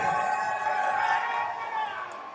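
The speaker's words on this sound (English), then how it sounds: "listen to the reaction from Jordy. I mean, the crowd has definitely found their favorite" Wrestling crowd at a CCW Luchamania 3 show in Nashville, Tennessee, reacting to Trevor Jordy's ring entrance: a steady, full roar of cheering that fills the whole stretch without letup.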